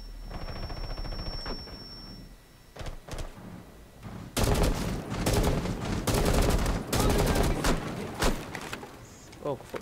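Gun firing in Rainbow Six Siege, bursts of rapid shots cracking loudly in the second half after quieter scattered shots and game ambience, with occasional talk.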